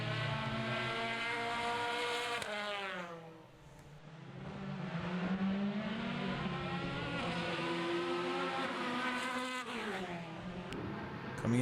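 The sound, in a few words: Formula BOSS race cars on wet track at Mondello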